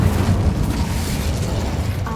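Incendio fire spell cast in the Hogwarts Legacy video game, a loud, close burst of flame with a roaring, rumbling body that carries on for about two seconds.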